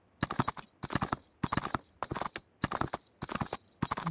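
Horse hooves clip-clopping while riding in the video game BGMI, a steady galloping rhythm of clustered hoof beats in seven evenly spaced bursts, close and clear with no talk over them.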